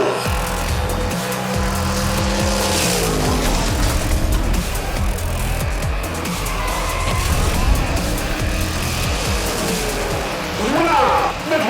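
Hot Wheels diecast cars, a '33 Ford Roadster against a Buffalo, race down a toy track in a steady loud rolling rush that runs throughout, with no clear break in the noise.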